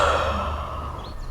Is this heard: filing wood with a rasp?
no